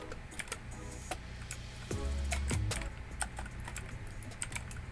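Quick clacking keystrokes on a cheap one-handed mechanical gaming keyboard, close and fairly quiet, in uneven bursts with a short low rumble partway through.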